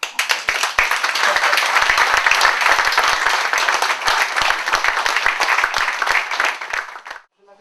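Sustained, loud applause from a large audience at a gathering, a dense wash of clapping with sharp individual claps standing out, holding steady for about seven seconds before cutting off abruptly.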